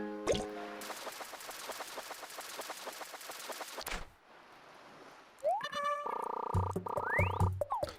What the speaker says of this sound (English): Horse mackerel.